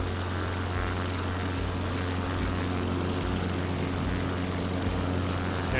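A propeller airplane engine in Microsoft Flight Simulator 2020 revs up for takeoff, a steady, loud droning hum with a low pulsing throb holding throughout.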